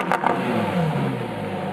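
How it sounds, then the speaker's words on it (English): A 2020 Lamborghini Huracan EVO supercar accelerates hard in Corsa mode, its engine giving a loud, sustained roar that holds steady through the short burst, close and with no talking. "hear what an acceleration in Corsa mode is like"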